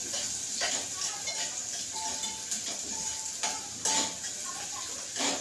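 Onion frying in oil in a pot over full gas flame, a steady sizzle throughout, broken by a few scraping stirs and clinks of a spoon against metal, with no talking.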